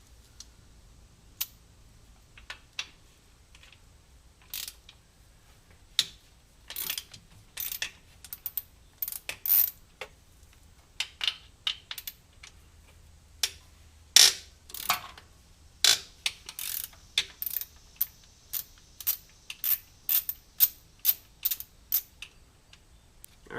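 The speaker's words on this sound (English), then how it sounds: "So we will find our ratchet wherever that is, and we'll get these guys loosened up" A ratchet loosening bolts on a Ford GT500 during a second-gear lockout repair, with bursts of quick clicking strokes separated by pauses, growing busier and louder toward the end, in a quiet garage with no talk.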